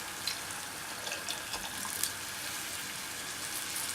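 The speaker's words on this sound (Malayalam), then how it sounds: "ഇനി ഞാനിതിലേക്ക് ചേർക്കാൻ പോകുന്നത് നമ്മുടെ പുളിവെള്ളമാണ്" Tamarind water, made by soaking a piece of tamarind in hot water, being poured into a simmering prawn curry, a steady soft splashing pour that runs unbroken and faint throughout with no talk.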